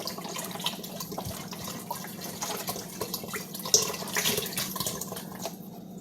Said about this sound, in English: I'm just going to pour this whole thing of chicken broth in